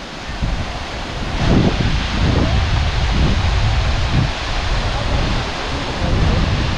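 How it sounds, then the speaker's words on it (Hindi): The Mantoka waterfall roars as a steady, broad rush of falling water, close and loud, mixed with heavy wind buffeting the microphone. "और ये सामने है मंटूका वाटरफॉल।"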